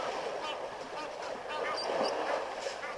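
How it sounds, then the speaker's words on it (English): Egyptian goose at a waterhole, honking calls at moderate distance over a busy outdoor background, with occasional faint voices mixed in. "Egyptian goose."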